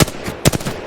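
Gunfire in the Apex Legends firing range: a short burst of two or three sharp, loud, close shots in under a second.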